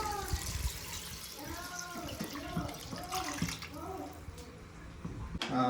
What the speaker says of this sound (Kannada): ನೀರು ಹಾಕಿದ್ದೀನಿ.